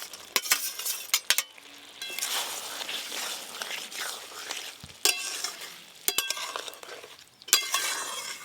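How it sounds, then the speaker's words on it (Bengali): Fried shrimp and eggplant being sautéed in a gravy for a spicy Bengali curry, with a spoon scraping and clattering against the pan in bursts over a bubbling sizzle, close and fairly loud. "চিংড়ি মাছ আর বেগুন ভালো করে কষিয়ে নিয়েছি।"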